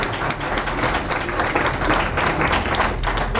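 Steady, dense applause from a large audience, many hands clapping continuously at an even loudness throughout.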